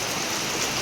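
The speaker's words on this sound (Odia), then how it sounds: "କେତେ ଜୋରେ ବର୍ଷା ହେଉଛି ଏବେ।" Heavy evening rain pours under dark clouds, a dense, steady roaring hiss of water with no break and no voices, heard only for a brief moment.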